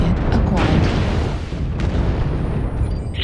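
Missile barrage bursting in the mech combat game MechWarrior Online on a polar highlands map, a dense, continuous rumble of overlapping explosions filling the whole stretch with heavy booming.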